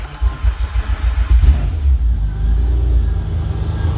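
A turbocharged V6 Hyundai Tiburon cranks over with a rapid, rhythmic low chugging from the starter for about a second and a half, then settles into a steady, loud engine drone.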